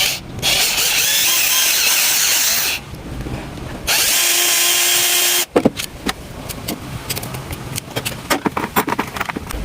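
Power drill boring a hole for a spring in the tailgate lock install on a 2022 Isuzu pickup: a few loud, close whirring bursts separated by pauses, then rattling and handling clatter.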